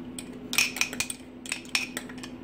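Fork tapping and scraping against a dish while drizzling melted candy melts over St. Patrick's Day treats, a few close light metallic clinks in short clusters over a low hum.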